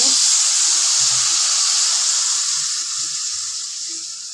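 Spices sizzle loudly in hot oil in a pan after pumpkin and ginger have been fried for a vegetarian curry of potato, eggplant and pumpkin. A strong steady hiss starts at full strength and fades slowly, with no talking.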